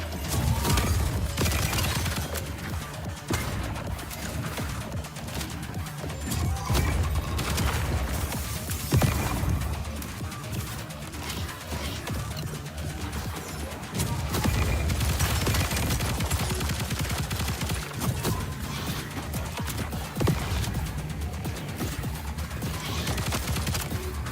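Grenade blasts and rapid gunfire in the cyberpunk roguelike shooter VOIDBREAKER, with dense continuous bursts of shots and booming impacts.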